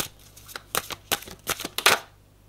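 A deck of tarot cards is cut and shuffled, giving a quick series of sharp, close papery snaps and riffles, about half a dozen bursts in under two seconds, with the last one the loudest.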